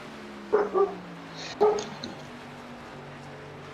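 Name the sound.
dog barking outside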